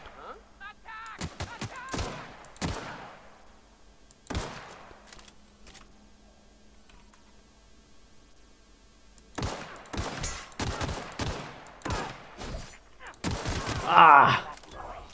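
Gunfire in The Outer Worlds video game: clusters of sharp shots crack in irregular bursts with gaps between, some rapid and near, over faint game ambience.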